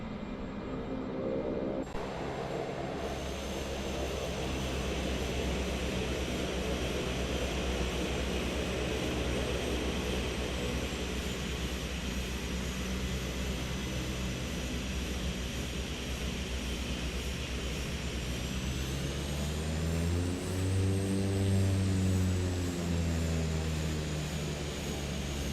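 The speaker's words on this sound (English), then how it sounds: "So, hold reverse thrust," Airliner jet engines roaring on reverse thrust in Microsoft Flight Simulator 2024, a loud sustained rumble and whine that swells and shifts pitch toward the end, with no talk.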